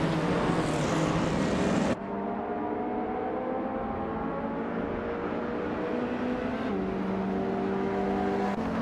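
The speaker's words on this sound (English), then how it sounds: "Sasatur is driving a Peugeot 205 T16 from 1985, known for its rally heritage and agility." A 1985 Peugeot 205 T16 rally car engine in a racing video game holds a steady, loud drone with rising harmonic lines as it accelerates through gears, with a brief louder burst at the start.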